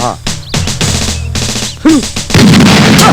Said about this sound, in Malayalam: ഒരു ബോംബ് എറിഞ്ഞു